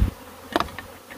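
Killer bees buzz in a brief, close burst with a short louder swell in the middle, heard alone without voices.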